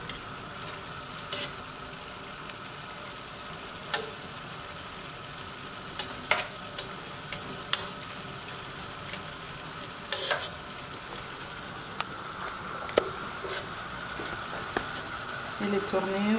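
Large prawns cook gently in a pan with a soft, low sizzle, punctuated by sharp clicks and taps of utensils, and a voice speaks over it at times.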